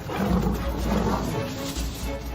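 Lions roar during an attack on a buffalo herd: deep, rumbling roars close by, rising and falling over a couple of seconds with no talk.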